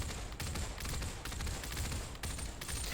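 An MK18 rifle fires in the Population One VR game, loud and close, with repeated bursts of rapid gunfire breaking up a dense stream of shots.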